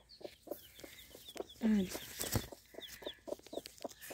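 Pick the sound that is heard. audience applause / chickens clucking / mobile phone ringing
chickens clucking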